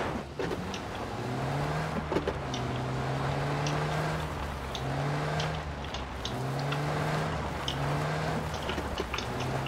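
A steady car engine in PUBG drones throughout, with a low humming pitch that rises and falls in repeated swells, plus faint higher clicks above it.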